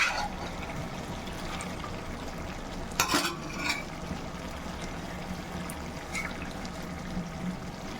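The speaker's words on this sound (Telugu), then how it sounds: "ఈ పచ్చనిపప్పు కూడా వేసేద్దాం దీంట్లో" Boiled green gram dal tipped into a simmering chicken curry pan, a low bubbling sizzle with a wet clatter and stir around the midpoint, fairly quiet and close.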